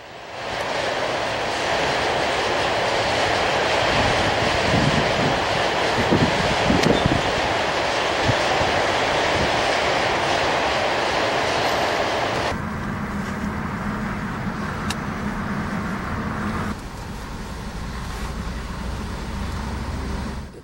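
A train rumbles past at Milwaukee Junction as a loud, steady roar with a wind-like hiss. The roar shifts in tone partway through, then eases slightly toward the end, with no talking.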